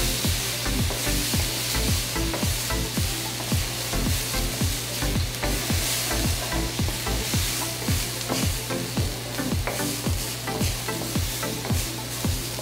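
Soy sauce sizzles in a hot frying pan while a utensil stirs it, the steady frying hiss overlaid by fast, regular scraping strokes, close and continuous.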